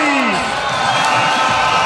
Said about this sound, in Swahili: Hebu pigia Shabana makofi.